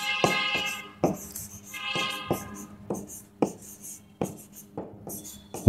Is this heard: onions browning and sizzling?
no